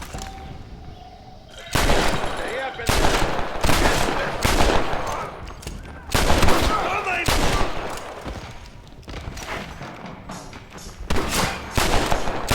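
Rapid gunfire from a Red Dead Redemption shootout in Mexico, sharp repeated bursts and volleys of shots with a shouting voice in Spanish mixed in, loud and close throughout.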